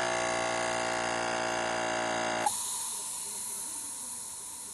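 A radiator expansion tank cap under test pressure vents air in a steady hiss that cuts off abruptly with a small click halfway through, followed by a quieter, duller hiss as the release continues.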